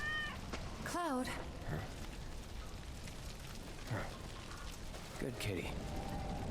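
A cat in the Final Fantasy 7 Remake video game gives a few rising meows, one clear and close and others briefer, over a steady rain-like background hiss.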